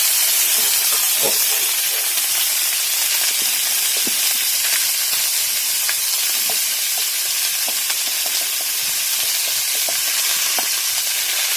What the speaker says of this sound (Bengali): এবার দিয়ে দেবো পেঁপে আর আলু কাটা ছিল